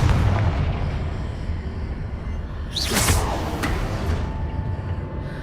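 A Confringo fire spell blast in the Hogwarts Legacy video game, a loud booming explosion with a swooshing burst at about the three-second mark, set over a dense, rumbling battle background.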